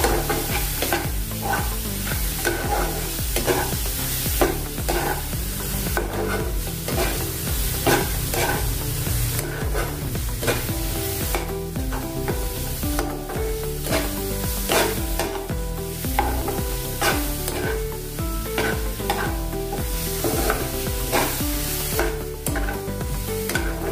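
Potato and bottle gourd pieces being stirred in a pan with coriander powder, turmeric, salt and dried red chillies, a dense continuous sizzle with steady scraping strokes running throughout, close and fairly loud, no voices.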